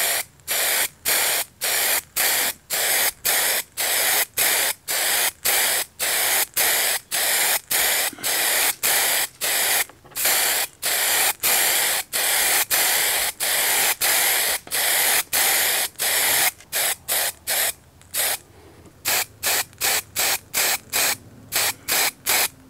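Primer spray-painted onto a sanded shock absorber coil spring from an aerosol can: loud, close hissing bursts in a steady rhythm of short sprays separated by brief pauses, running on for over twenty seconds.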